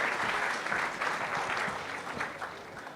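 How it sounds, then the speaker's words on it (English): A steady round of applause from a crowd, continuous clapping that fills the whole moment without voices rising above it. "a round of applause."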